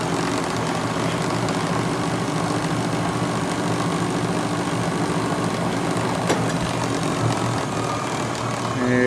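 A Hardinge chucker HC threading lathe runs with a steady, continuous mechanical drone, its collet closer adding a constant hum in the background throughout, with no talk.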